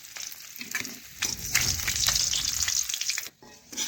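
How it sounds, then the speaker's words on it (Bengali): Rohu fish pieces fry in hot oil until crisp, giving a close, steady crackling sizzle with stirring noises that briefly drops away near the end before returning. "মাছগুলো একটু কড়া করে ভেজে নিতে হবে"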